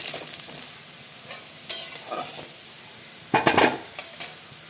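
Cut potatoes with a little turmeric fry in oil in a pan, giving a soft steady sizzle broken by scraping stirs and a few louder metal clatters from the spatula against the pan, with no talking.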